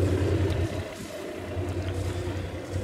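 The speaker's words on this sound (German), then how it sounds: "Jetzt ist also Motor und Propeller Sail Drive entkoppelt." Sailing yacht's engine idles in neutral with the sail drive decoupled, giving a steady low rumbling hum with faint wind and water noise around it.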